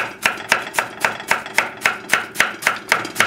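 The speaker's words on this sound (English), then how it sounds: "just try to cut the cabbage" A knife slices napa cabbage thinly for coleslaw on a cutting board, giving about a dozen crisp, evenly spaced chops in a steady rhythm, close and clear.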